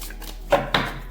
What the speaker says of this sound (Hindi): अब मैं थोड़े से कार्ड्स निकाल लेती हूँ फिर हम शुरू करते हैं